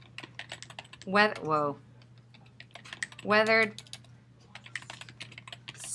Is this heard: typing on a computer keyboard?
yes